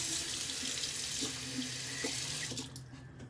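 Steady running water from a bathroom tap pours continuously, with a few faint clinks near the end as the flow eases slightly.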